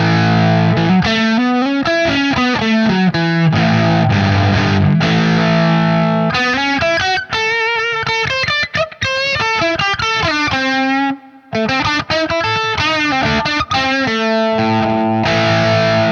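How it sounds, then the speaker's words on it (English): Electric guitar played through a BOSS FZ-1W fuzz pedal set to modern mode, a thick, saturated distorted tone with sustained chords and note runs, loud and continuous with a brief gap near the end, no talking. "Let's hear the sound if you switch to the modern mode."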